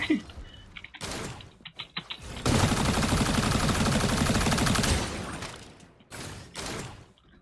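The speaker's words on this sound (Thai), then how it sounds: "ก็เสียงปืนก็จะประมาณนี้" A sustained burst of rapid automatic gunfire in the video game Strinova, preceded and followed by scattered clicks and short bangs.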